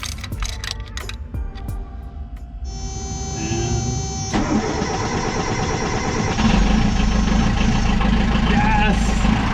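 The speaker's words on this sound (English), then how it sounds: "see if we can get the engine all running again" A mechanical clatter, then a small sailboat engine catches and settles into a steady running drone, fairly loud and close, with a voice briefly over it.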